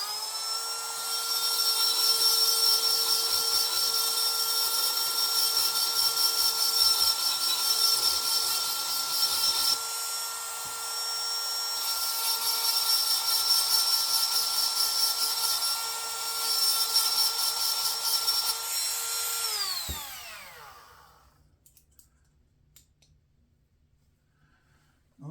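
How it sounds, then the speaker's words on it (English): A power grinder works the front of an antique 1892 Eclipse Meteor 12-gauge shotgun fitment, whining loud and close in two long passes with a brief dip between, then spinning down and falling silent near the end. "Alright, a little bit grinding on the front."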